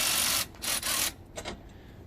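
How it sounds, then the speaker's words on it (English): Quick ratchet bursts tighten nuts and bolts on a heat shield being fitted to a Can-Am X3 side-by-side, a few short clicking runs close by, then fading. "all the nuts and bolts and stuff that he's installing right now with the heat shield"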